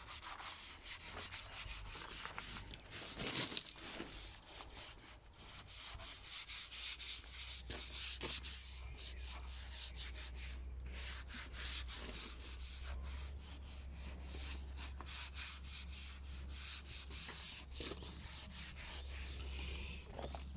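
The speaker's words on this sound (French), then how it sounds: "on va le brosser légèrement" A brush scrubs a window sill lightly while a cleaning product is worked in, making soft, continuous back-and-forth rubbing strokes close by with no talking.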